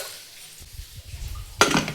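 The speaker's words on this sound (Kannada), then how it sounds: "ಈಗೇನು ಕುಕ್ಕರ್ ತಗೊಳತ್ತೀನಿ." A pressure cooker being picked up and handled in a home kitchen gives a few soft metallic knocks. Near the end comes a brighter, louder clatter of metal. No one speaks.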